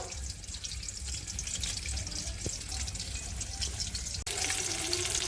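Pieces of catla fish fry in a pan of hot oil, a steady broadband sizzle running throughout with a brief clink near the end, no voices present.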